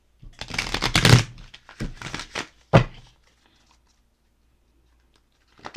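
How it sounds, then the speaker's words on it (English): A deck of cards is shuffled up close in several quick riffling bursts, crisp papery flutters followed by a sharp tap, then quiet. "Let's get a good shuffle on these cards."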